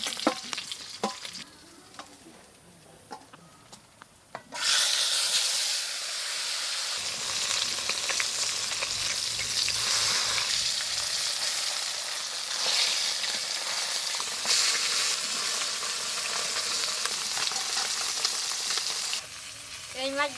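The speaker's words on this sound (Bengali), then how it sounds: "এই মাছগুলো ভাজা হয়ে গেছে," Small fish fry in hot oil in a home kitchen, a loud continuous sizzle that starts abruptly after a few quiet seconds, with occasional stirring scrapes, then cuts off near the end.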